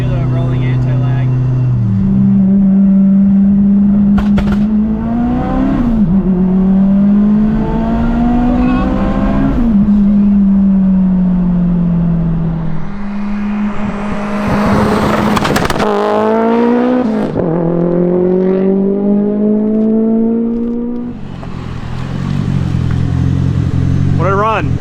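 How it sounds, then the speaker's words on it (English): A turbocharged all-wheel-drive Acura RSX with a full exhaust revs loud and close, its engine note climbing and dropping repeatedly with crackly anti-lag pops and a sharp burst midway. "So if I do the rolling anti-lag."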